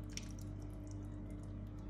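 Thick tomato-paste sauce pours into a pot of stuffed bell peppers, a continuous soft wet glugging with small drips over a steady low kitchen hum.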